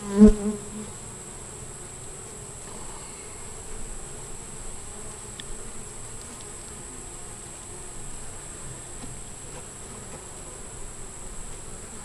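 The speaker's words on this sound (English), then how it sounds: "there's a lot of bees at the bottom and a lot of bees on the side" A continuous low buzzing drone of many honey bees in a hive, steady and close, after a brief bump at the start, with no talking.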